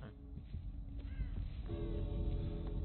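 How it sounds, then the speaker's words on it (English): Crows caw in the video game Dead by Daylight, a few harsh, rasping calls over a dark, rumbling ambient background, moderately close and clear. "Fuck off, birds."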